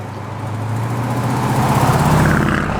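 A 1969 Oldsmobile 442 with a big block V8 runs close by, its deep rumble building steadily louder as the revs rise over a few seconds.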